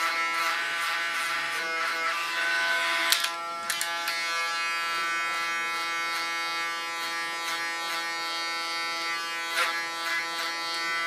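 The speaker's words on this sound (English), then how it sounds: "So I just went in with my clipper and set it in the line" A close, steady electric hair clipper buzzes continuously through a bob haircut, with a few brief clicks and snips along the way and no talking.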